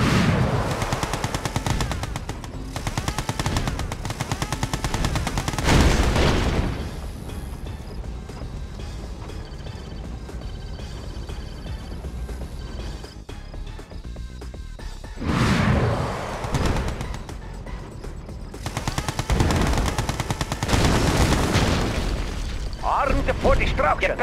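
Video game base assault: bursts of rapid gunfire and booming explosions come in heavy waves, loud and close, with quieter stretches of battle noise between them.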